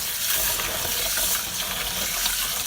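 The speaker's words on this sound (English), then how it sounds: "I'm just going to put it in there and just rinse it out a little bit" Water runs into a sink as rice is rinsed for Nigerian jollof rice, a steady, close hissing splash of tap flow with faint stirring texture that continues unbroken throughout.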